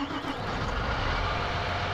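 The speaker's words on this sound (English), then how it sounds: "I absolutely love the sound of these this series tractors starting up." A 7230 series tractor in a farming video game mod starting up, giving a steady, loud diesel engine drone that holds evenly across the short stretch.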